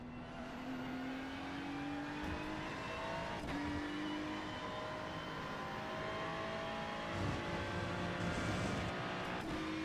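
McLaren race car engine in a racing video game at Spa, a continuous high-revving drone with rising pitch sweeps through gear shifts and brief breaks, steady and loud throughout with no voices.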